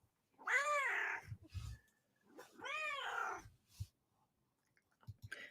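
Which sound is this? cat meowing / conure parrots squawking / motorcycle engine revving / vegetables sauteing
cat meowing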